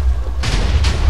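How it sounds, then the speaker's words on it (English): Minecraft explosions from a blast among redstone and obsidian, two heavy booming bursts in quick succession over a steady low rumble, loud and close. "Though it's still exploding"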